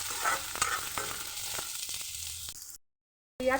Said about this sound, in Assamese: পিঁয়াজখিনি ৰঙচুৱা হোৱালৈ ভাজি ল'ম।